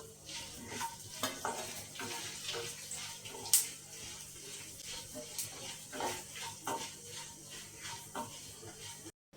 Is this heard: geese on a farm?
no